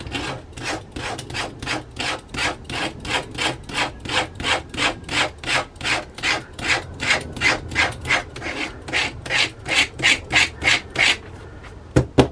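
A knife blade scrapes metal residue off a leather sharpening strop in a long, steady run of rhythmic rasping strokes, each one close and clear, with no voices.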